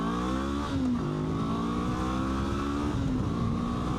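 A Honda NX500 motorcycle accelerating hard from a red light, engine note rising steadily through gear changes with brief dips between shifts, close and continuous with wind noise.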